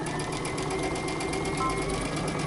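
A sewing machine stitches a jacket hem in a steady, fast, even whir of needle strokes, close and continuous.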